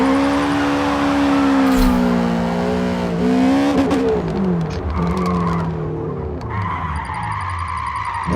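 A GR86 drifting a mountain touge road in a racing game, the engine note rising and falling under long squealing tire slides, loud and close, with a short beeping tone toward the end.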